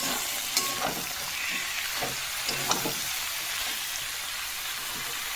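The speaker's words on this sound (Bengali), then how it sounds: "এবারে সবজিগুলো অল্প অল্প করে দেবো আর নাড়বো" Pumpkin, ridge gourd, long beans and potato sizzle steadily in a wok with a hilsa fish head, a continuous close frying hiss broken by a few soft stirring clinks.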